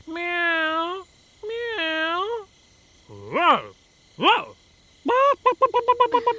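A voice artist imitates animals: two long, wavering cat meows, then two short rising bird-like squawks, and finally a quick run of chirping trills, all loud and close with no other sound.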